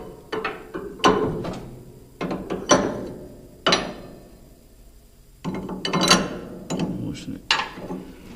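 Ratchet wrench loosening a bolt on a wood chipper clutch, a series of short, close metallic clicking bursts separated by brief pauses, fairly quiet with low background noise.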